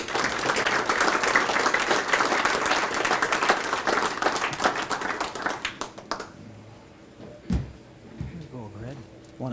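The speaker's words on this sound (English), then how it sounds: "How about a nice round of applause for Mr." A banquet crowd at a Moorhead Legion event applauds an honoree with dense, sustained clapping that fades after about six seconds, followed by scattered handling noises and a voice speaking.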